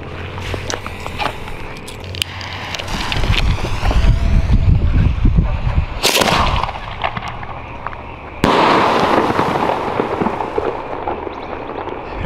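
Chrysanthemum fireworks shells of 2 and 3 inches go off outdoors in Mexico. Sharp booming bursts are followed by crackling and wind noise across the clip, with a loud blast near the middle and another soon after.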